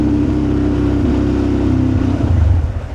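A motorbike on a street in Ecuador or Peru rumbles close and loud at idle, its engine note wavering and sagging before the sound drops away toward the end.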